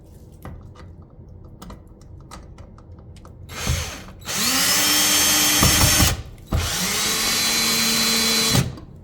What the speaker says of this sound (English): let me grab my drill